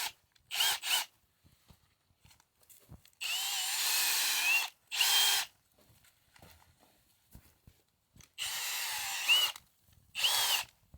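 A power drill fitted with an auger bit bores into garden soil in Alaska for planting cold-hardy peppers, whirring in several separate bursts of a second or two with quiet scraping and gaps between them.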